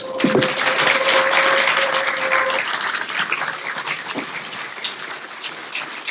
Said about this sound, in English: Let's give a standing ovation and a round of applause for our heroes.